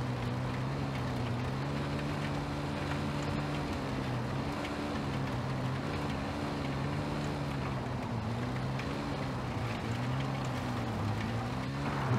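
A rally vehicle engine in the Dakar 18 video game holds a steady, droning tone with gently wavering pitch as the throttle is worked, loud and continuous with no voices.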